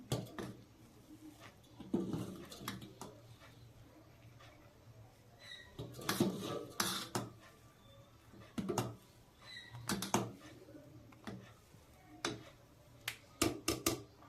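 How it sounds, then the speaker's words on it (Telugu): Boiling milk for badam milk is stirred in a pot with a spoon, giving quiet, scattered clicks and taps of metal against the pot over a faint low simmer, with no voices. "పాలు అయితే మరుగుతున్నాయి ఇవి పొంగిపోకుండా ఒకసారి కలుపుకుందాం"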